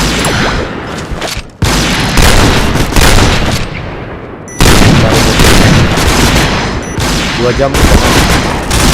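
Gunfire in an online video game, loud dense bursts of rapid shots and booms filling the clip, with brief pauses and a voice talking over it.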